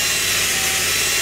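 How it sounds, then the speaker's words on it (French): A power drill bores through plywood on an HO-scale model railway layout, a loud steady high-pitched whir and grind running continuously without pause. "la perceuse de façon à pas tout défoncer au moment où je vais passer à travers le contreplaqué"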